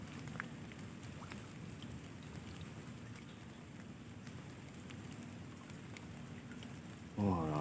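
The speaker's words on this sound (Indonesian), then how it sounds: "Ini mulai deras lagi hujannya nih." Heavy rain pours steadily over a swamp during a fishing trip, a constant close hiss of drops with a louder burst near the end; no talk.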